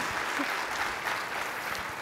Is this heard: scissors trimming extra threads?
no